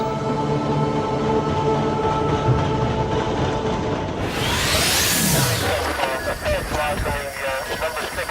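An old railway train in the Tajuña valley southeast of Madrid runs at full speed: a loud, steady rumbling roar builds into a rushing sweep as it passes close by, then trails off into rattling.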